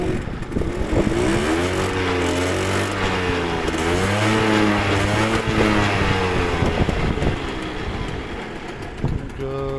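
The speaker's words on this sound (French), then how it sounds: "je vais la pencher, je vais faire un petit coup d'accélération" A stock, unrestricted Peugeot XP automatic Super Avenger 50 moped engine revs up in a close, loud burst, its buzzing two-stroke pitch rising and falling steadily for about ten seconds.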